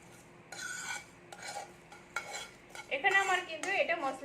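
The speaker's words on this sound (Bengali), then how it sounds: "সব মশলাগুলোকে আমি একটু ভেজে নেবো কিন্তু আমি পুড়িয়ে ফেলবো না" Whole spices are lightly dry-roasted in a pan for raw-mango laddu, with a spatula stirring them in short bursts of scraping and metallic clinks that grow busier toward the end, close and moderately loud with no talking.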